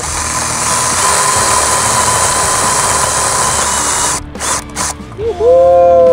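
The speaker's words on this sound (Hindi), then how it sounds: "ड्रिल मशीन से लकड़ी कट गई पहली बार।" A power drill with an improvised cutting attachment saws through a neem tree branch. It gives a loud, steady whirring grind that breaks into stuttering bursts near the end, then a brief higher squeal.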